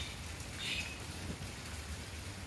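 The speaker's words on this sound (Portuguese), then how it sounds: "Chuva aqui em Fortaleza." Rain falling in Fortaleza, a soft, steady wash of drops at moderate distance, fairly quiet and even with no talking.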